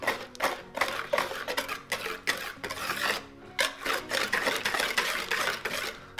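Repeated scraping and rubbing strokes of a utensil against a bowl, steady and close, as thick banana cake batter is stirred.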